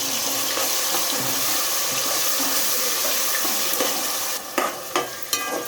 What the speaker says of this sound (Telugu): ఇలా ఉల్లిపాయ ముద్ద అయితే పచ్చివాసన పోయేదాకా అయితే వేపుకుంటాను నేనైతే.